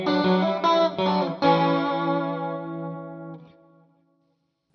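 Electric guitar played direct through amp modelers such as Kemper, Tonex and Quad Cortex, a few quick strummed chords followed by one held chord ringing out and fading over several seconds, with a chorus-like shimmer and no talking.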